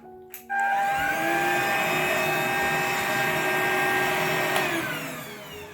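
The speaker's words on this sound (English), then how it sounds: "So this vacuum cleaner can vacuum the sofa" After a brief click, a cordless Tineco Go Flex stick vacuum spins up to a loud, even motor whine that holds steady near the mic for several seconds before starting to wind down at the end, with no voices.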